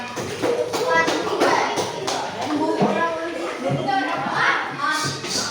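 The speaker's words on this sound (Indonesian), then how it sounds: "Tepuk tangan untuk kelompok 1" A classroom of children applauding group 1, a dense patter of many hands clapping close by for several seconds, with speech from the room mixed in.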